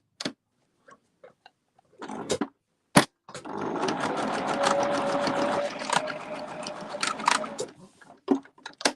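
A sewing machine stitches a rustic outdoor table mat in one steady whirring run of about five seconds, with rhythmic needle ticking. Scattered clicks and taps of handling come before and after.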